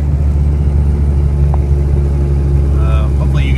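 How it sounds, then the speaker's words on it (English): A Cummins 6BT 12-valve diesel swapped into a Suburban drones loud and close while driving, a steady heavy low rumble with a faint rising turbo whistle near the end; a person talks over it. "Hopefully you guys will be able to hear and enjoy the turbo spool up and all the shifting of the transmission"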